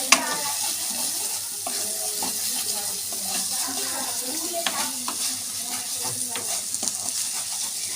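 Masala with Kashmiri chili powder frying and being stirred in a pan for a Bengali pomfret curry, a steady sizzle with scattered scraping and clinking of the spoon, close and continuous.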